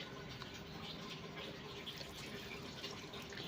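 Split milk strained through a sieve into a dish holding caramel, a steady soft trickle and patter of liquid close by, continuous for a few seconds with no talking.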